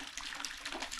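Water from a farm hose fed straight from a borehole gushes out in a steady, splashy rush, fairly close and continuous with slight fluctuations, no speech over it.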